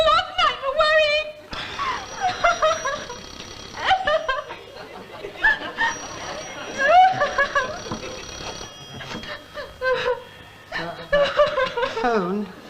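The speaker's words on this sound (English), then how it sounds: "Phone." A telephone bell rings in short repeated bursts in a comedy scene, mixed with chuckling audience laughter and people talking around it.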